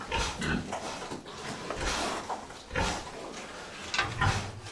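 A pig grunts in a farm pen, a run of rough, close snorts and grunts spread across a few seconds, with some rustling and knocking in the enclosure.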